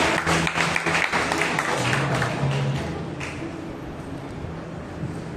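Indoors at a church New Year prayer fellowship, a congregation claps together, a dense wash of hand claps with scattered sharp taps that fades gradually toward the end.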